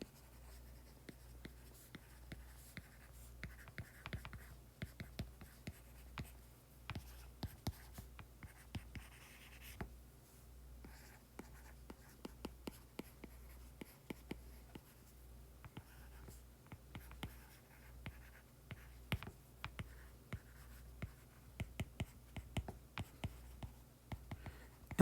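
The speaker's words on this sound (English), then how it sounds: "So let's go ahead and write that down." Pen or pencil writing physics notes by hand on paper, a steady run of close, soft scratching strokes and light taps with brief pauses, with no talk.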